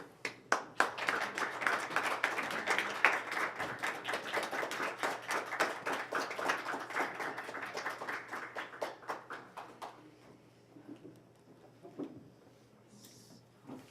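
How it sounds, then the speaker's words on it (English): A small audience claps at a live gathering in Redmond, a dense patter of hand claps for about ten seconds that thins out and stops, leaving a quiet room with a few faint knocks. "And when we clap for you, you can't go away until we're done clapping."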